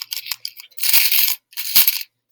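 Pennies rattle and jingle inside a container in a few vigorous shaking bursts, loud and close, separated by short silent pauses.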